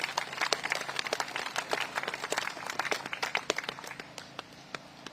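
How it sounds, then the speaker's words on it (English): Audience clapping at a Commonwealth Day memorial ceremony in London for the Commonwealth Children's Choir, a loose scattering of individual hand claps that thins and fades toward the end. "I think they deserve a huge round of applause."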